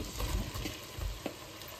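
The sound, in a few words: carrots frying with onions in a pan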